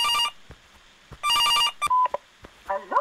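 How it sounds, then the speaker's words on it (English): A telephone rings in the Stifled horror video game, two loud electronic bursts of ringing a beat apart, followed by short clicks and a warbling tone. "It's never a good thing when you hear the phone ring."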